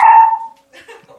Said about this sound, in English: What kind of dog?